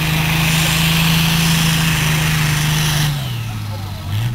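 A tractor engine at a tractor race roars loud and steady with a sustained drone, then drops in pitch and volume as it eases off before picking up again at the end.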